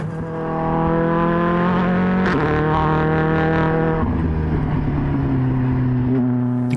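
Ford Fiesta R5 rally car engine roaring loudly from inside the cabin, a steady harmonic drone that climbs and shifts pitch through quick gear changes, with no talk over it.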